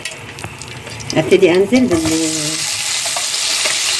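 Ingredients tipped into a pan of hot Egyptian ghee (samna baladi) for crispy fried vermicelli-style qashah with pepper and garlic: sizzling that rises sharply around the one-second mark and settles into a steady loud fry, with brief voiced sounds and stirring over it.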